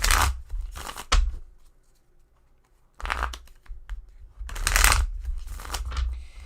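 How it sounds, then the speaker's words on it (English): A deck of playing cards is shuffled in several loud, close riffling bursts, each a rapid crisp flutter, separated by brief quieter pauses. "So let's go ahead and get this deck shuffled up."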